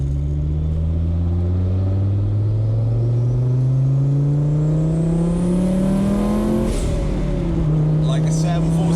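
A 510 bhp Audi 80 cabriolet quattro accelerates hard, its loud, close engine note climbing steadily in pitch through a long pull before dropping briefly at a shift and building again.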